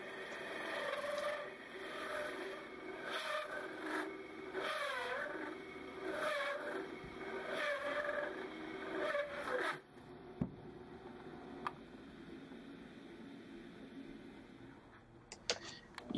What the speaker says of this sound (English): we're going to cut this thin piece of plastic out so that we get a spacer